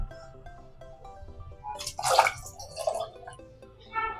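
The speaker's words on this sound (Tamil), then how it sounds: "நிறைய தண்ணி எக்ஸ்ட்ரா விடுறேன்." Extra water poured into a pot of paruppu rasam (lentil rasam), a splashing, gurgling flow that swells in short bursts over a steady kitchen background.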